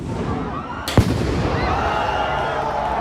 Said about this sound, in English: Fireworks also flew.